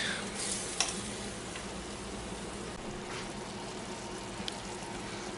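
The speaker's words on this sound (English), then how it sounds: "Doesn't take shrimp long to cook at all." Shrimp cooking in a pan over high heat give off a soft, steady sizzle with a few faint clinks and stirring sounds, heard fairly close with no voices.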